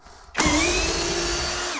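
A Parkside Performance 64 Nm hammer drill driver starts abruptly and runs steadily, driving an aggressive bit into material with a loud, sustained whine that dips slightly in pitch under load, heard alone and close.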